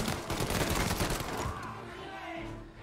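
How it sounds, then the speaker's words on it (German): Rapid gunfire from allied characters in the game Mafia: Definitive Edition, a dense burst of overlapping shots that fills the first second and a half before thinning into quieter scattered shots. "Seine Freunde schießen."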